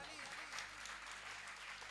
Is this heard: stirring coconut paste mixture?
no